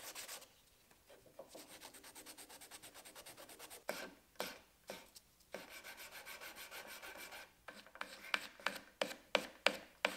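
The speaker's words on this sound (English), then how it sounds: "With some more filing and sanding, I could bring the handle up to the final dimensions." Hand filing and sanding on a handmade mini integral knife handle: steady rasping strokes in a continuous run, then a series of separate, sharper scrapes toward the end, close and fairly loud, with no voices.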